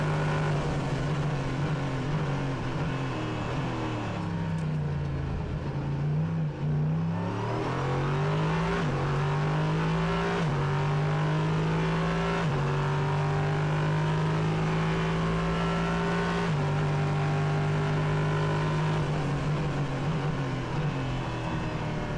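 A race car's 5.6-litre Nissan V8 engine roars from onboard at Hockenheimring, a sustained loud drone that shifts pitch as it revs up and down through gear changes.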